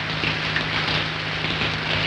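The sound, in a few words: rain falling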